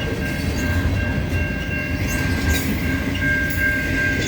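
An intermodal freight train with containers on flatcars rolls steadily past in Neenah, a loud, continuous rumble of wheels on rail with faint clicks and a squealing metallic tone.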